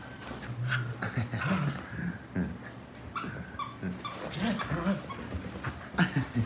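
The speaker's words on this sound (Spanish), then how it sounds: "Ver a un perrito feliz." Dogs of a rescued pack whimper, yip and pant excitedly near at hand, a busy run of high whines and short yelps over a steady rustle, with a voice briefly talking.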